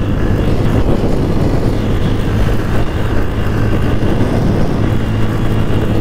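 A Bajaj Pulsar N160 motorcycle is being ridden, giving off a steady, loud engine drone mixed with rushing wind that holds at an even level.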